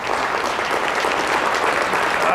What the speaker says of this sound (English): a round of applause for your convention bureau